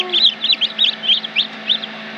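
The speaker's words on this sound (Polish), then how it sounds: "To się kluje, to się kluje." A newly hatching chick peeps from inside its egg, giving a quick run of about ten high, bright chirps at close range over a quiet background hum.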